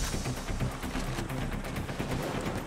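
Gunfire rattles through a firefight in the video game Payday 2, a rapid, steady stream of sharp shots at moderate loudness, repeating throughout with no talking.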